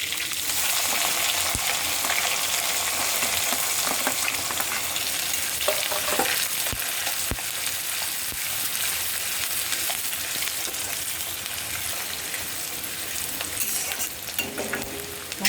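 Chopped onion fries in a pan of oil with mustard seeds, cumin and curry leaves, a continuous close sizzle broken by scraping stirs and occasional clinks of a spoon, no voices.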